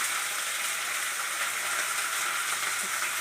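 Spinach greens dropped into a hot frying pan give off a close, steady, crackling sizzle that holds evenly throughout with no voices.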